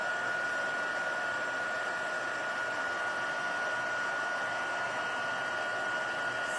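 A heat tool blows steadily while melting embossing powder on a crafting card, a constant loud whooshing fan hum with a high whine, unbroken for several seconds.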